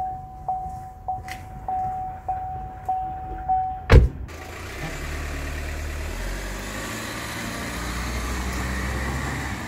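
An Opel Insignia 1.6 CDTI with a six-speed automatic: a few soft clicks and a door thud, then the diesel engine starts and settles into a steady, close idle.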